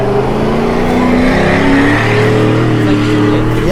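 A junkyard vehicle engine, apparently two-wheel drive, screams steadily on the rev limiter at full volume, a sustained buzzing drone with slight pitch wobble throughout and a brief rise at the end.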